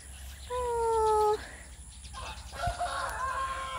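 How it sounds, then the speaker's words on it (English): Chickens on a rural plot in Miri, Sarawak, Borneo: one bird lets out a loud, drawn-out crow, then fainter clucks and calls follow close by over a low background hum. "And the chicken is so noisy."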